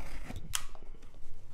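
Scissors snip through a watch box's packaging in a few short, crisp cuts close by, with faint rustling of the material between them.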